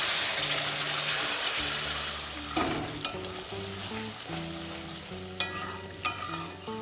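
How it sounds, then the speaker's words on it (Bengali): Spice paste added to hot oil and tempering spices in a pan while cooking a vegetarian milk-gravy paneer, giving a steady hissing sizzle with stirring clatter and a few sharp spoon knocks against the pan, alongside faint background music. "এবার আমি এর মধ্যে দিয়ে দেবো মশলার পেস্ট।"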